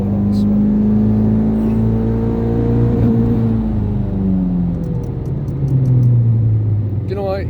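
Ford Fiesta ST180 engine revving hard and steadily during a water methanol injection test, a loud continuous roar with rising and falling pitch sweeps held for several seconds, with an exhaust burble near the end.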